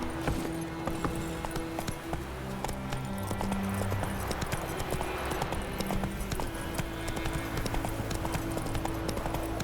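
Horse hooves in The Witcher 3 gallop in a rapid, continuous clip-clop that runs steadily and close at hand for the whole stretch.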